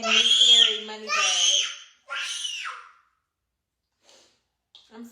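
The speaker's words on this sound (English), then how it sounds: "my son is screaming." A young child screams in three loud, high wails, each lasting under a second, close to the recorder and followed by near silence.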